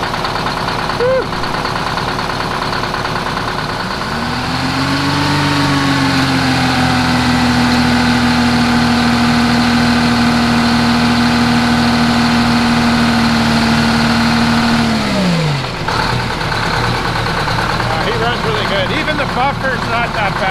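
A Detroit 8V71 diesel in an MCI bus idles loudly on its first start in 15 years, a steady rough rumble with a rising whine held for about ten seconds, then easing back.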